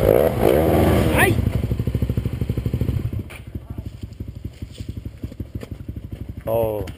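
Dirt motorcycle on a sandy hill trail in the Serra, its engine chugging in a steady loud pulse that drops to a rougher, quieter idle, with a voice calling out briefly near the start and end.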